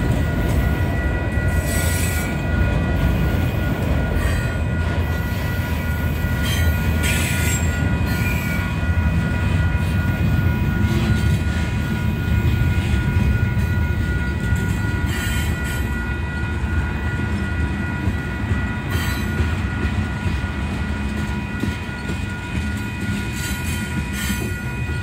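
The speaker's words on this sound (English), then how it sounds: "Don't know how long this train will be," A long Union Pacific freight train rumbles past continuously at close range at a road crossing, heavy wheels rolling with occasional metallic squeals and clatter, no voices.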